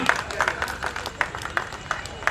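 An audience at Kalanjali, a festival of science and culture, claps along in a steady, rhythmic beat of sharp, evenly spaced claps, with a voice carrying over the top.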